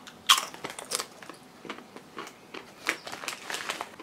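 Thick-cut McCoys BBQ chicken crisps are bitten and crunched close up, a few sharp brittle cracks followed by scattered chewing crunches with quiet gaps between.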